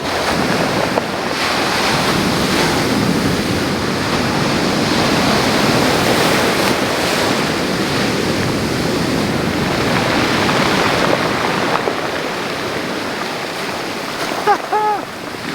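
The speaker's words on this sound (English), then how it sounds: "Now we're going to wait for a big wave to hit here again" Big ocean waves roar continuously on a Scottish shore, with heavy wind buffeting the microphone, waves rushing and breaking nearby.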